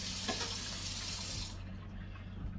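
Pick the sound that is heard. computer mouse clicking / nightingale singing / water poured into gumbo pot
water poured into gumbo pot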